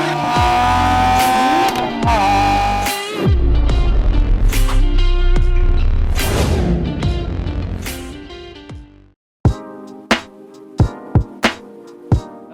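A Mitsubishi Lancer Sportback with a 2.4-litre engine and five-speed manual gearbox revs hard through the gears on a mountain road in Malaysia, loud and close, with rising engine pitch, brief gear-change dips and sharp bursts after a pause.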